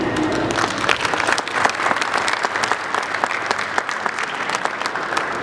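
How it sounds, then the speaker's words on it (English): An audience at an Ocean County public event on drinking, drugging and driving breaks into steady, dense applause, a close, even wash of many hands clapping that holds for the whole stretch, with no voices over it. "I'd like everybody to recognize their own efforts with a round of applause right now"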